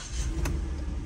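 A wrecked sheriff SUV with 89,000 miles and missing fuses, its engine catching and running: a short, steady low rumble with one sharp mechanical click partway through, close and with no voices.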